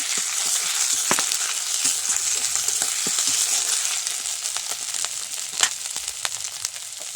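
Ginger, garlic and onion paste frying in a pan, a steady close sizzle with intermittent spatula scrapes and taps, one sharper knock near the end.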